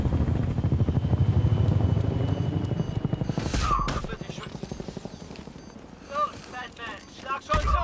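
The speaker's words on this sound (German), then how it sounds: "Ist jetzt ein Heli." Helicopter in the Batman: Arkham Knight video game, a steady rotor drone with chopping pulses fading under game effects and brief clanks, with someone talking over it.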